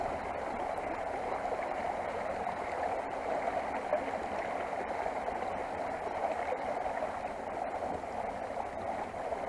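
Water swirling and gurgling steadily around a kayak as it is paddled on a solo camping trip, a continuous, fairly even wash of splashing and burbling with no voices.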